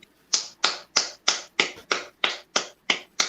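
Hand claps in a gospel-style song, ten sharp evenly spaced claps in a steady rhythm, close and crisp, with no voices over them.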